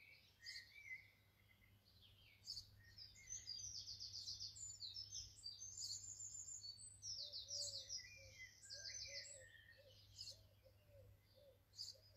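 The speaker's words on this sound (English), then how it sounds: "Now just for a moment of birdsong here in the garden." Birds chirp and trill faintly in a quiet garden, with repeated bright calls and a soft low cooing, like a dove's, partway through, all distant and without voices.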